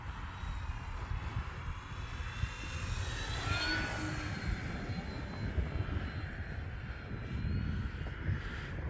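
An E-flite T-28 1.2m radio-controlled model airplane flies on a wet day, its electric motor whining and shifting pitch as it passes overhead, steady and moderately loud against outdoor background rumble.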